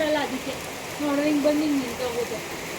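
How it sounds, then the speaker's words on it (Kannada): Steady monsoon rain in Bengaluru hisses across the whole stretch while a voice talks over it, the downpour constant and fairly close. "ತುಂಬ ದಿನಗಳ ನಂತರ ಮಳೆ ಬರ್ತಾ ಇತ್ತು"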